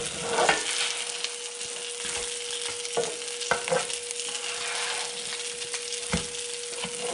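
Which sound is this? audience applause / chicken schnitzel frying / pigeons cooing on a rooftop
chicken schnitzel frying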